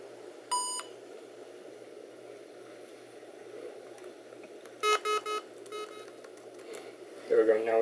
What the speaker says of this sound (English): There we go, now it won't get an annoying beep.